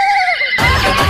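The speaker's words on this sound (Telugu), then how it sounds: "ఓకే, గుర్రం అండి, గుర్రం." A horse gives a loud, close whinny, a high wavering call that slides downward before breaking into a rougher, noisier snort-like burst at the end.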